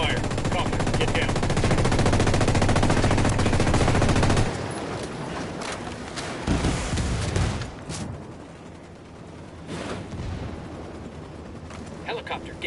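Heavy Apache helicopter gunfire in a military shooter video game: a dense, loud burst of rapid automatic fire for several seconds, then scattered shots and blasts amid battle noise.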